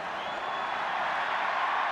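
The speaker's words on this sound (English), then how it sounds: "And listen to the crowd as their favourite Tony Brown comes on." A rugby stadium crowd at a 1999 All Blacks versus South Africa test roars steadily as a favourite substitute comes on, a dense, sustained wash of cheering heard from a distance with no break.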